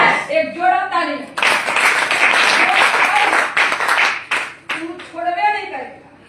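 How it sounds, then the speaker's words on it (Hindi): An audience in a sales pitch for rice bran oil claps, a dense burst of applause lasting a few seconds between stretches of someone talking. "इसका हाई रिजल्ट, हाई रिजल्ट, एक जोड़ा तालियां।"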